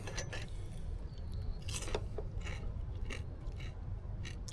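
Small rock crab being bitten and chewed on the Oregon coast, a series of close, sharp crunches and cracks in irregular bursts over a low background rumble.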